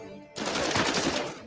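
A short burst of automatic gunfire in the video game Uncharted erupts abruptly after a quiet moment, a loud rapid rattle of shots lasting about a second.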